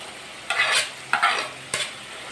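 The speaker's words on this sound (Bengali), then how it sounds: "এবার ভালো করে মিশিয়ে দিতে হবে চিকেনের মধ্যে আলুটা।" Mashed potato being stirred into cooked chicken in a pan for chicken patties: three short, close scraping stirs with a light sizzle, and no voices.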